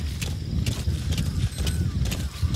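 Horse hooves clip-clop at a steady trotting rhythm in Metal Gear Solid V: The Phantom Pain, crossing desert terrain, close and continuous with faint mechanical clinks above the low hoofbeats.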